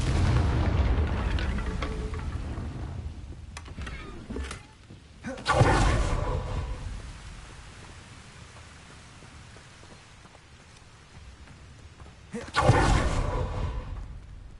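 A Confringo blast spell in the video game Hogwarts Legacy, two sharp booming explosion bursts several seconds apart over a low rumbling background.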